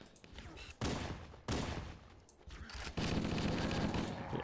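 Rapid bursts of gunfire from the video game Halo, loud and close, with sharp onsets and a sustained volley near the end; no talk.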